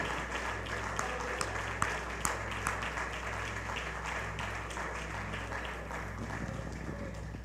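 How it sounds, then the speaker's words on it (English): A seated church congregation claps in praise, a dense wash of handclaps sustained evenly over a steady low hum, with a few sharper claps standing out near the front. "clap your hands unto the Lord as you're seated and give the Lord some praise"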